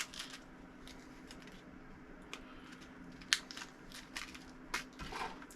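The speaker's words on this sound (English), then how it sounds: "We'll just completely wreck the packaging on this one." Cardboard and plastic packaging of a fishing tackle box is torn and crushed up close, with irregular crinkling and ripping and a few sharp snaps and crackles.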